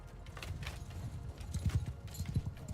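Horses gallop in a cavalry charge in the Bannerlord video game, with a Lord of the Rings mod, as horse archers charge. Rapid clip-clop hoofbeats roll steadily under battle noise and get louder and heavier toward the end.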